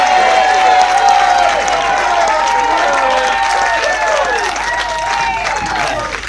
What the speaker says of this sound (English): would you please put your hands together, ladies and gentlemen, the father of the bride!